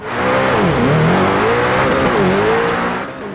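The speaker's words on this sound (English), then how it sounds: "See just how quickly that gets to 60 miles an hour from a standstill" A car engine in a video game revving and accelerating hard from a standstill, its pitch rising and dipping through gear shifts in a steady, loud drone with a synthetic quality.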